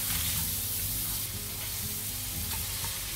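Slices of pork belly fry in a pan with a dense, loud, unbroken sizzle and a low rumbling undertone, heard close up with no pauses.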